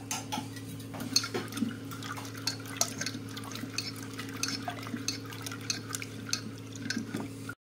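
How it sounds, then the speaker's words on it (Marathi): Peas and beans are washed in water, giving close, irregular sloshing, dripping and light clicking against a bowl over a steady low hum, without speech. "तर आपण हे 2 पाण्याने स्वच्छ धुवून घेऊया."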